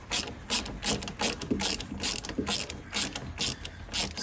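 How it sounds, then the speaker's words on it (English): A quarter-drive socket ratchet clicks as it turns a bolt that clamps through plastic onto a steel tank below, giving about ten sharp, evenly spaced bursts of close, fairly loud ratcheting with no voice over them. "So I'm going to try a quarter drive socket."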